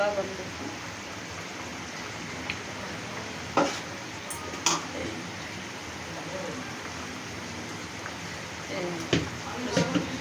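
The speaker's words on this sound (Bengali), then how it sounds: "ভালো করে নাড়াচাড়া করে দিন একটু গরম হোক" Lentils being stirred in a pot for an egg and dal dish: a soft, steady scraping swirl with a few sharp clinks of the spoon against the pot, and a voice talking faintly underneath.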